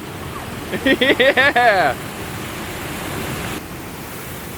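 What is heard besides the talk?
water flowing over an old broken dam waterfall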